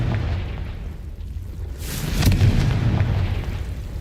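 A Confringo blasting spell explodes in Hogwarts Legacy with a deep rumbling blast that swells midway into a louder, sustained roar of fiery debris, heard alone.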